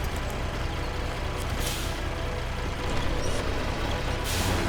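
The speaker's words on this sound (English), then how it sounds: "Handbrake this time." A truck's air brake hisses in Expeditions: A MudRunner Game, short bursts of released air rising over a constant loud engine drone.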